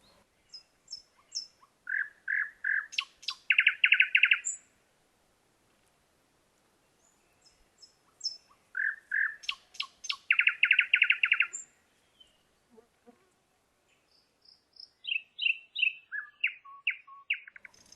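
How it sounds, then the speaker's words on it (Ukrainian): A nightingale sings close by in quiet forest surroundings: repeated bursts of chirps and rapid trills, separated by pauses of silence. "Та ще у кущах співає соловейко, його трелі лунають і вдень, і вночі."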